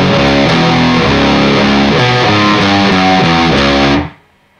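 Heavily distorted electric guitar plays the second bar of a riff: a steady stream of loud, close picked notes lasting about four seconds, then cut off into silence.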